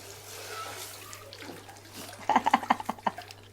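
Tap water running over carrots being washed for gajar ka halwa, a splashing, bubbling stream that grows louder and more uneven toward the end, close by with no other sound.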